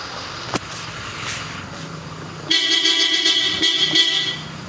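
A Bosch Europa horn fitted to a 2024 Toyota Hilux blasts a loud, bright, steady tone for about two seconds, following a brief short toot; no talking.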